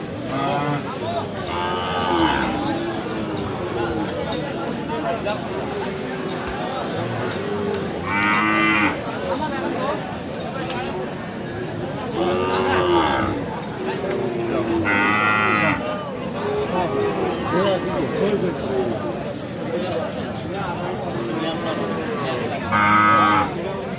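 Cattle, including Sahiwal bulls and calves, moo repeatedly at a busy livestock market, with several loud, drawn-out lows spaced through the scene amid steady crowd chatter and people talking nearby.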